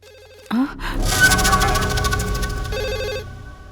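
A telephone rings loudly and close by, a trilling electronic bell that sounds in repeated bursts over a steady hum.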